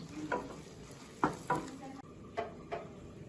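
Apricot halwa being stirred in a pan on the stove: several soft scraping strokes in an uneven rhythm over a faint sizzle, close and fairly quiet.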